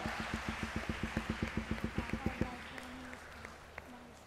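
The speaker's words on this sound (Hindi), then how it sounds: "बहुत सारी तालियां बच्चे के लिए होनी चाहिए भाई," Rhythmic group clapping in a steady beat from a studio audience on a Ramzan television quiz show, a dozen or so even claps that stop abruptly, leaving a quiet room with faint sounds.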